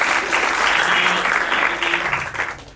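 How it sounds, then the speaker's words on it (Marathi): An audience at a Marathi talent show gives a contestant loud, sustained applause, a dense wash of clapping that holds steady and then tapers slightly toward the end. "मॅडम साठी जोरदार टाळ्या"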